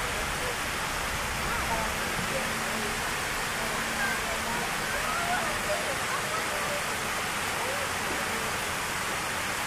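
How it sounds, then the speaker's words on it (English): Water rushing over a lake spillway at Pymatuning, a steady, broad, hissing roar heard from a short distance, constant throughout and fairly faint, with no distinct breaks. "There's the spillway."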